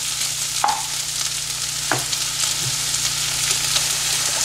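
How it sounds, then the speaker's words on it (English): Fried soya chunks get stirred with soy sauce and tomato sauce in a pan, with a steady sizzle and a few scraping strokes of the spoon close up. "Then I'm going to add our fried soya chunk here. mix it well."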